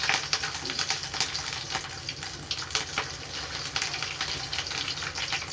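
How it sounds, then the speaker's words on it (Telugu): Ginger garlic paste sizzles steadily in a pan with whole garam masala, a continuous crackling fry at close range with no voices. "అల్లం వెల్లుల్లి పేస్ట్ పచ్చివాసన పోయేంత వరకు వేయించుకోవాలి"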